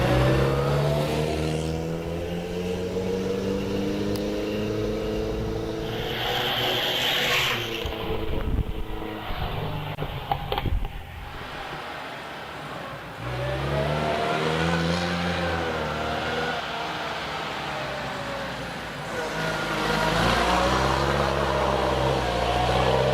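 Vintage race cars at the VSCC Prescott hill climb, engines revving hard and accelerating past, fading into distance and returning with rising roars, loud and close at the start and end.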